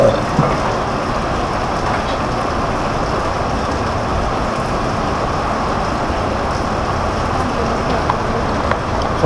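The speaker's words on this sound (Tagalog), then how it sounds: "Lakas ng ulan, no?" Heavy rain pours steadily in Tagkawayan, Quezon Province, a dense, even hiss that holds at one loud level the whole time, with no voices over it.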